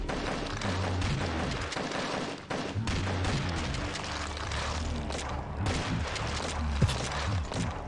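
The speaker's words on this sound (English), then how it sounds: "Alright, hold it down, machine gun" Machine gun fire in the video game Chromosome Evil rumbles on in sustained, dense bursts mixed with booming explosions, loud and close, forming a hectic wall of battle noise.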